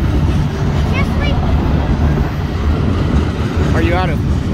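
A BNSF mixed freight train led by a CP locomotive rolls past with a steady, loud rumble and rail noise throughout, while people talk over it.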